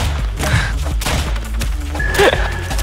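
Explosive bullet gunfire in the video game Rounds, a quick burst of muffled pops and thuds mixed with game effects and a rising tone, loud and close.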